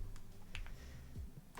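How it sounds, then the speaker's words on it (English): A handful of quiet, crisp key presses sound on a clicky computer keyboard sitting close to the mic, with short irregular clacks against near silence. "But I do love the sound of my keyboard."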